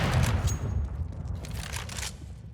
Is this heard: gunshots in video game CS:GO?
yes